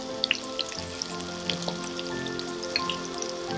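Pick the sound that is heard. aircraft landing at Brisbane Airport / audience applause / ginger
ginger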